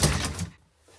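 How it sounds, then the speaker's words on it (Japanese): A small elevator door in an old Finnish building closes with a brief thud and slide, loud and close, then silence. "ドアがちゃんと閉まった。"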